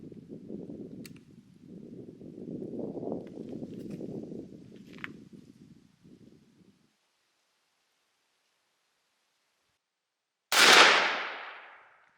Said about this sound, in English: let's go ahead and take a pop shot at this thing